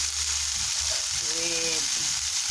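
Ground pork giniling with sayote sautéing in a pan, a loud close steady sizzle with brief stirring scrapes and faint tonal squeaks partway through, no talking.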